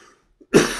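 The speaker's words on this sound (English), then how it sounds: "Forgive the bad cough." A single harsh cough from someone with a bad cough, loud and close, bursting out after a brief near-silent pause and a faint earlier murmur.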